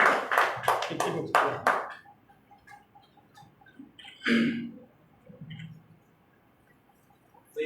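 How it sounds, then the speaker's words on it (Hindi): Clapping from a gathered audience welcomes a guest at a Republican Party of India (Ambedkar) event: a dense, loud burst of applause for about two seconds, then it drops to a quiet room with faint scattered sounds. "जोरदार तालियों से स्वागत कीजिएगा"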